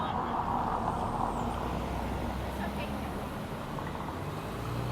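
City street traffic in Puerto Rico, with cars passing in a steady low rumble and a dense wash of road noise, while someone narrates over it.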